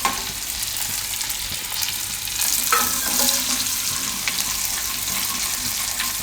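Fresh green turmeric roasting in a little oil for a Gujarati parval sambharo makes a continuous close sizzle that swells briefly midway, with light stirring sounds and no voices.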